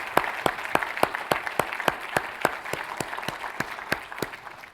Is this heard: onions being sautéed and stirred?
no